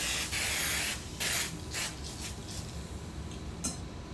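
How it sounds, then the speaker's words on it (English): Cooking spray greases a baking pan in a home kitchen: several short aerosol hisses in quick bursts, the first longest, close and fairly loud, then quieter puffs. "Go ahead and grease your pan."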